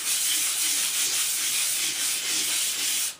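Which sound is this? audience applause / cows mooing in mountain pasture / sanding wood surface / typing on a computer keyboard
sanding wood surface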